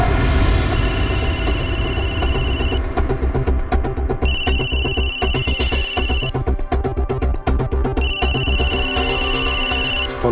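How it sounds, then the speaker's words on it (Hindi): A telephone rings in a repeated electronic ringtone pattern, loud and close, with bursts separated by short gaps and no talking over it. "फोन उठाओ।"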